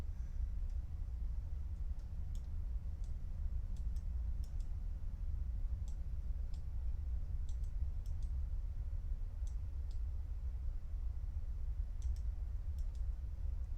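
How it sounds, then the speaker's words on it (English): Sparse, light mouse clicks at a computer while working in Unreal Engine 4, single and double taps scattered irregularly over a steady low hum, close and quiet with no talking. "And just go ahead and click on that."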